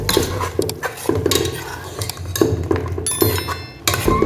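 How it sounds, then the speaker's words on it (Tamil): A spoon scrapes and clinks against a pot while oil and ghee are stirred for Ambur mutton biryani, making repeated close metallic taps in a steady rhythm with background kitchen noise. "நல்லா கொஞ்சம் எண்ணெய் கொஞ்சம் நெய்யும் நான் மிக்ஸ் பண்ணிடுறேன்"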